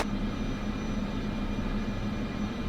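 A Cessna turboprop taxis in Microsoft Flight Simulator 2024, its engine giving a steady, continuous drone with a broad noisy hum and no talk over it.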